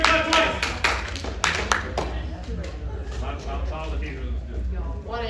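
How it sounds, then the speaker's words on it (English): Hand claps at a late-night anime convention panel: several sharp, loud claps in the first two seconds, with a voice talking over the room noise and a crowd murmuring behind. "Can you hear me clap once? Can you hear me clap twice?"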